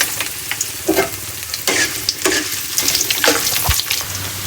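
Garlic and urad dal frying in a hot pan, a steady close sizzle broken by repeated scraping stirs and small crackles, with no voices.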